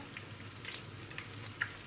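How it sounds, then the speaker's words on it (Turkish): Low, steady sizzling of cauliflower frying in hot oil over medium heat, with small crackles and pops rising above the constant hiss. "kızartmaya devam ediyorum"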